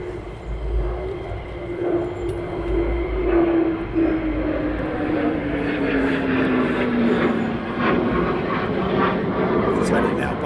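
An F-15 military jet approaching to land at RAF Lakenheath gives a steady, rising and falling engine roar that builds as it passes overhead, with people talking nearby throughout.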